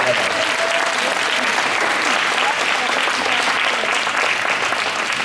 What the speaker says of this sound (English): So let's kind of at least give them a round of applause for the staff.